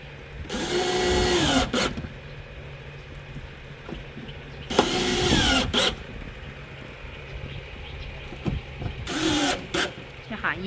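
A power screwdriver drives screws into the hinges of a BK80/BK81A/BK81B multipurpose cabinet during assembly, two screws per hinge. Three loud whirring bursts rise in pitch over a quiet room, with faint voices in between.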